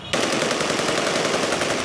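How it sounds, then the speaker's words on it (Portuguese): Rapid bursts of celebratory gunfire fired into the air crackle continuously after a brief quiet start, a dense, steady rattle of shots fired in quick succession. "simpatizantes da milícia xiita comemoraram com tiros para o alto"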